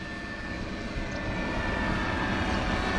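A Cessna 182 Skyline aircraft engine runs steadily, a dense continuous drone with a faint high whine, loud and close with no speech.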